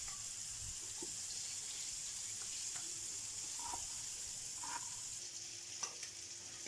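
Quiet, steady sizzling of anchovies frying in a pan, with faint clinks and light stirring noises over a soft background hiss.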